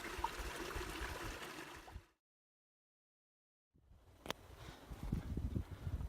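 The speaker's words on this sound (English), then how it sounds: "Pretty little cow creek." Cow Creek, a small mountain creek on the Pacific Crest Trail between Kennedy Meadows South and Horseshoe Meadows, gurgles and rushes steadily nearby, cut off by a brief silent gap midway before flowing on.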